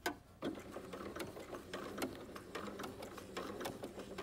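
A sewing machine runs a straight stitch through a snowman quilt in raw edge applique work, a steady rapid mechanical clatter with regular ticking needle strokes, moderately close and continuous without talk.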